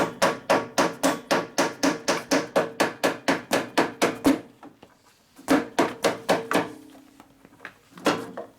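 A screwdriver is hammered to bend the cover on a 1965 Harley-Davidson panhead FLH motorcycle, giving a rapid, steady run of sharp metallic blows, then a pause and a few more irregular strikes, loud and close.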